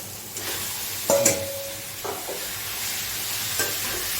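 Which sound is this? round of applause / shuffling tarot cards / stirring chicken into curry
stirring chicken into curry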